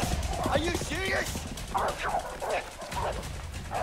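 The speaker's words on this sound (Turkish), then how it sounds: "Eyvah işin yoksa bir de şimdi köpeklerden kaç." Dogs bark repeatedly in the prison-escape video game A Way Out, sharp yelps over busy game noise and rumble, with players talking over them.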